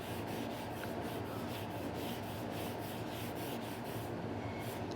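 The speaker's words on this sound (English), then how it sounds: "I'm rubbing it on very slightly." Faint, close rubbing as stain is worked by hand into a wooden surface, a continuous soft swishing with a gentle back-and-forth rhythm and no talking.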